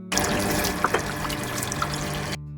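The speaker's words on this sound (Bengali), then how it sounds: "চালটা ধুয়ে নেওয়া হচ্ছে।" Rice being rinsed in water in a home kitchen, a short burst of close splashing and trickling with a few small sloshes, and no voices.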